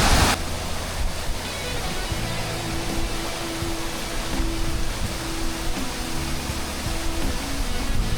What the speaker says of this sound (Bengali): আমার ঠিক পিছনে পড়ছে ওয়াটারফলসের জল